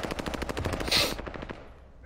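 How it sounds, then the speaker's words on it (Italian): A rapid string of firecrackers pops outside in an even, fast rhythm, ending in a louder burst. The crackle then fades out, heard from a moderate distance. "Chi cazzo è che sta lanciando petardi?"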